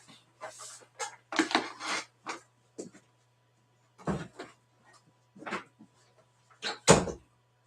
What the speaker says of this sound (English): I'm just gonna let the dog out right quick out of the room